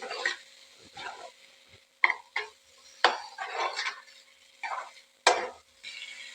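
Spoon stirring finely chopped tomato into masala in a pan for tomato chutney, a series of short scraping, sizzling strokes with brief pauses between them, close and clear, with no talk.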